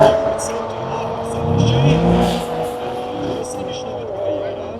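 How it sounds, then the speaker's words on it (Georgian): A drag racing car on the Rustavi track during the Georgian Drag Racing Series, its engine droning and rising in pitch as it revs, heard mid-distance beneath ongoing commentary. "დღეს ტატოს მანქანა კიდე რა ნაკლები წნევით დადის ახლა"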